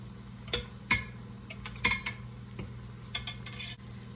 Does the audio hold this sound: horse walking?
no